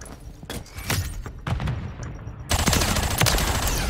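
Sharp gunshots ring out singly at first, a few seconds apart, during a bomb-planting round of a squad shooter video game, then give way to a louder, sustained burst of fire.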